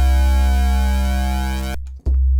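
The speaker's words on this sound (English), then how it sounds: "Let's go to a more pure tone so you hear this better." A loud, steady pure sine wave tone from an Omnisphere 2 synthesizer, smooth electronic timbre, holds for under two seconds, then cuts off abruptly, followed by a brief click.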